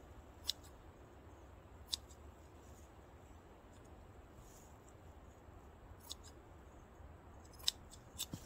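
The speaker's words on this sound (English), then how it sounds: "And you want to trim just a little bit off." Scissors snip a paint cover for a coyote trap set in a few sharp, isolated cuts spaced apart, close and quiet against a soft background hush.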